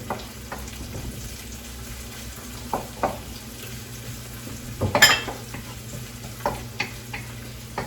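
Dried shrimp stir-fry for pad thai in a hot pan, giving a low, steady sizzle broken by scattered scrapes and clacks of a utensil, with one louder burst near the middle.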